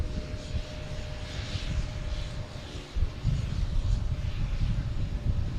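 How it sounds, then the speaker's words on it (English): An Alaska Airlines airliner pushes back at Boston Logan Airport, its engines a steady, fairly loud low roar that holds for the whole stretch, with a brief bump partway through and no voices over it. "We have Alaskan Airlines pushing back here."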